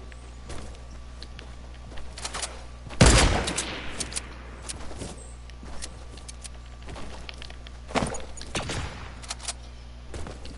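Gunfire in Fortnite: a loud close burst near three seconds followed by scattered quieter shots, with footsteps and game ambience in between.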